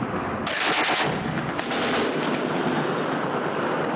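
An old Soviet artillery gun, at least forty years old, fires on militant positions around Damascus, Syria, with a loud blast followed by a rolling, rumbling echo and crackling reverberation that fades out over several seconds.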